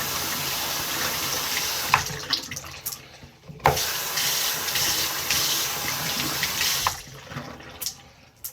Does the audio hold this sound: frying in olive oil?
no